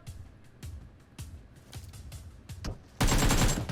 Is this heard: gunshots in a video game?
yes